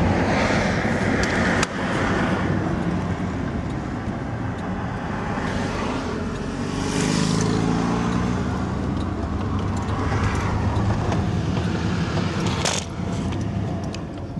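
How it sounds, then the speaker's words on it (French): A car drives through Hollywood in Los Angeles, a steady broad road rumble with engine noise rising and falling, occasional passing swells and a few clunks from inside the vehicle, no speech. "on peut se balader en voiture dedans"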